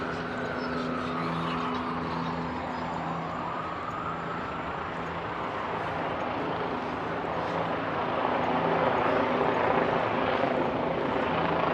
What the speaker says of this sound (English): You know, this helicopter noise,